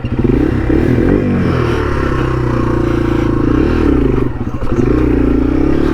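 A Yamaha TW200 dual-sport motorcycle revs hard through a wheelie, its loud, close engine holding a steady throttle roar with a brief dip near the end before climbing again.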